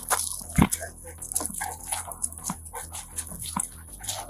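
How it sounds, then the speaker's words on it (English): A police drug-sniffing dog sniffs and snuffles with short whimpers and huffs, close by, over a cluttered outdoor background with a few sharp knocks. "the cops brought out the drug-sniffing dogs."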